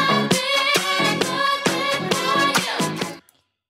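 A looped disco sample, filtered so the low end and harsh tones are removed, plays alone with a bright, thin, rhythmic texture of chopped chords for about three seconds before cutting off.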